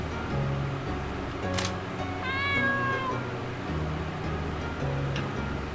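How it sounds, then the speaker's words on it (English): A cat meows once, a clear rising-falling call heard over steady background music in the video game The Lost Art of Innkeeping. "It's a cat."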